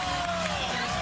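A stadium crowd roars at a Texas college football game against LSU, a dense, sustained wall of cheering and shouting at constant loudness with no break.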